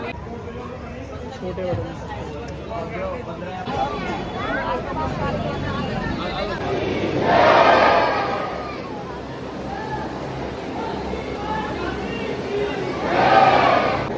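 A packed crowd murmurs and chatters at the Khatu Shyam ji temple, a steady dense babble with swells of louder noise, while a nearby voice talks over it.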